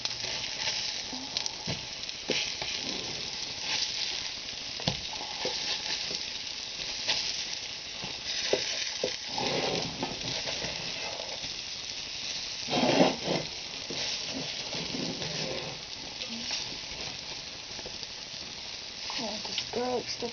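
Garlic and cheese pan pizza sizzles steadily in a round pan as the garlic browns, a continuous close frying hiss with occasional stirring clicks and scrapes throughout.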